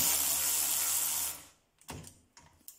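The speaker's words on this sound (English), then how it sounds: "Now I will unscrew the same bolts." Sealey cordless battery ratchet unscrewing bolts, a steady whirring mechanical drive for over a second, then stopping and giving way to a few short, sharp clicks and clacks of the tool and bolt.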